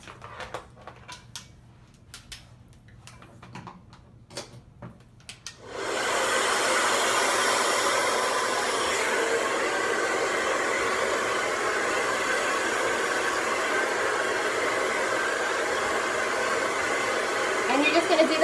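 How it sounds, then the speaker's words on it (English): After several seconds of faint clicks and rustling, a handheld blow dryer switches on and runs with a steady, loud airy roar, holding constant for over ten seconds close to the microphone. "Going to take your blow dryer. It's going to be a little bit loud,"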